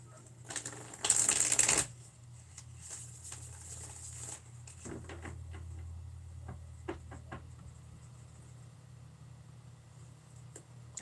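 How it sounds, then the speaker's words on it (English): A deck of cards is shuffled, first as a loud dense riffle burst lasting about a second, then a series of sparse taps and soft card handling in a quiet room. "I'll just give a good shuffle until..."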